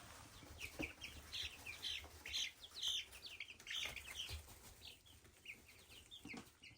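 Young chickens cluck and peep in a coop, a busy scatter of short high chirps and soft clucks close by, mixed with occasional rustling and wing flutters.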